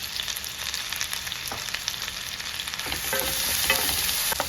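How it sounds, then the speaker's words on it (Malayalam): Crushed green chilli, ginger and garlic paste sizzles steadily in a hot pan, a dense hiss that swells slightly louder toward the end with occasional stirring scrapes; no voices. "ഇതിലേക്ക് നമുക്ക് ചതച്ച് വെച്ചിരിക്കുന്ന പച്ചമുളകും ഇഞ്ചിയും വെളുത്തുള്ളിയും കൂടെയുള്ള പേസ്റ്റ് ചേർത്ത് കൊടുക്കാം."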